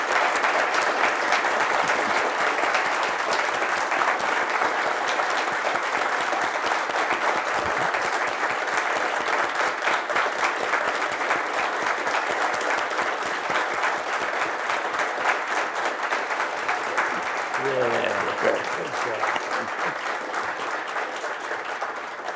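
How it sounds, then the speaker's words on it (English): A conference audience applauds and celebrates astronomer Frank Drake, steady dense clapping that holds loud and even for over twenty seconds, with faint crowd murmur underneath. "Let's applaud and celebrate him,"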